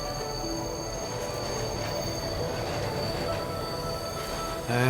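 A train arrives at a station in the cat puzzle game Bright Paw, rumbling steadily with high squealing wheel tones, then jolts louder right at the end.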